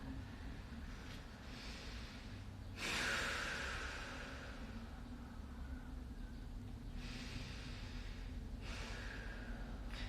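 After a full-body squeeze and held breath, a long audible exhale rushes out against a steady background hiss, followed later by quieter breaths in and out.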